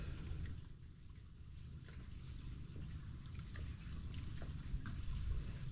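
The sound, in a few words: rain falling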